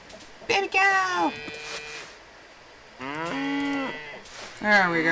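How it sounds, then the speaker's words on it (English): A calf in the farming game Coral Island gives two drawn-out, fairly loud moos separated by a short gap, with a third call starting at the end. "Baby cow!"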